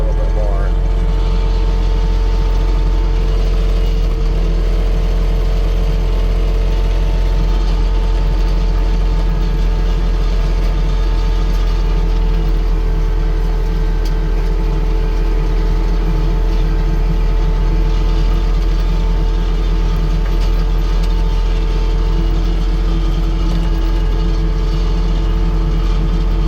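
A cheap AGT flail mower from Walmart running with its engine at raised RPM, a loud steady mechanical drone with rattling hum throughout, under occasional talk.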